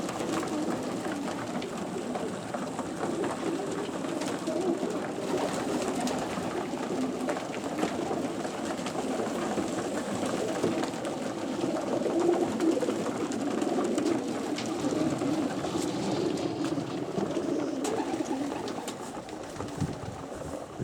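Many pigeons coo in a steady, overlapping murmur throughout, close by and continuous, with no voices.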